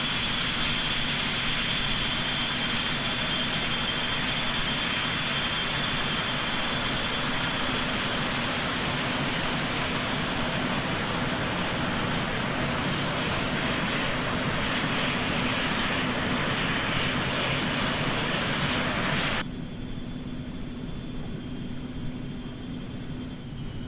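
A simulated Eclipse 550 light jet taxis in X-Plane 11 with a continuous engine whine and a thin high tone on top. The sound holds steady, then drops in intensity near the end. No one speaks.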